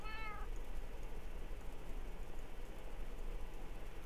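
A Minecraft cat gives a single short, bright meow at the very start, over steady low game background noise with no talking.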